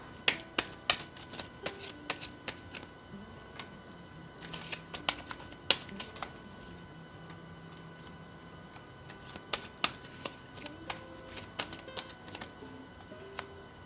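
Tarot cards being shuffled by hand in a quiet room, a steady run of crisp riffling snaps and soft slides, close and moderately loud, with no talk.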